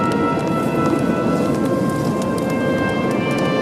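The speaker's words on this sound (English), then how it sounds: "That is the sound of sandhoppers." A swarm of sandhoppers on a dark beach at night makes a dense, even hiss and patter like steady rain, continuous and close with no pauses.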